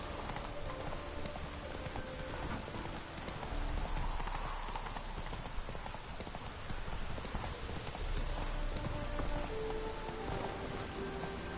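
Hooves of the horse Roach gallop steadily in The Witcher 3, a continuous rhythmic clip-clop at moderate volume over a wash of rain-like ambient noise.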